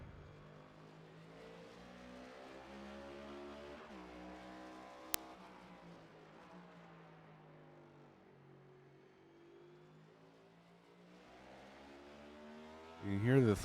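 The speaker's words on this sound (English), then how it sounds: "You can hear the throttle control of these cars as these guys are coming down in the corner, hard braking" Simulated NASCAR Next Gen stock cars roar on throttle around Martinsville Speedway in iRacing, a steady loud engine drone rising and falling through corners, with a brief sharp click and a louder surge of revving near the end.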